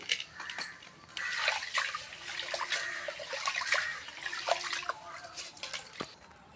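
Ingredients for an Andhra-style pachi pulusu are rinsed by hand in water, with splashing, trickling and dripping in uneven bursts, close and moderately quiet, and no talking.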